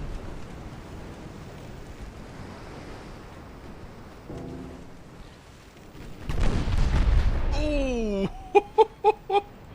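Torpedo hits on a warship in the naval strategy game Ultimate Admiral Dreadnoughts, with a faint wash of sea, then a loud rumbling blast that rolls on for about two seconds, followed by a run of short tonal pulses. A man briefly exclaims over it.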